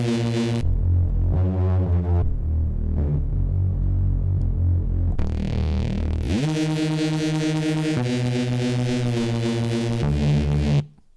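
Synth bass patches auditioned on an Akai MPC Live 2 in a half-time neuro production, loud deep sustained tones with a throbbing, wobbling texture that switch between several sounds and cut off abruptly at the end.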